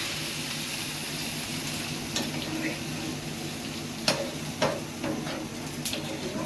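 Fish curry with data stems sizzles and simmers steadily in a pan after frying, with a few sharp clinks of a utensil against the pot near the end; no talking.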